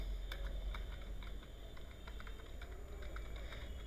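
Fast, light key taps on a computer keyboard while a heading is typed, a steady run of soft clicks close by over a low constant hum, with no voices.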